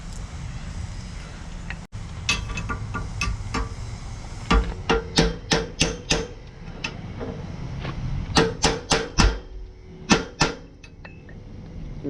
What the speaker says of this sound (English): The first thing I'll be doing is hammering the new bolts in here.